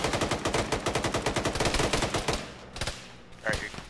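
Rapid automatic gunfire rattles through the ShackTac military game scene, a steady near burst of repeated shots for about two and a half seconds, then a few scattered louder single cracks as it trails off.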